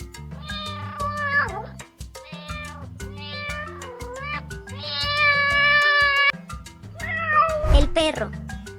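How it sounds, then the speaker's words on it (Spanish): A domestic cat meows repeatedly in drawn-out, wavering calls, loud and close, set over a steady musical backing track with a soft thump near the end. "El gato."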